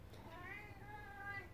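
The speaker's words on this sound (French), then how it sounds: "oui, bon, c'est mon chat." A pet cat gives a drawn-out, wavering meow indoors, fairly faint and close, over a quiet room hum, with no speech over it.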